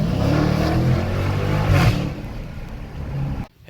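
A 2019 Dodge Challenger Scat Pack Widebody with the mid muffler deleted revs up loudly, its exhaust climbing to a raspy peak, then dropping back and cutting off abruptly.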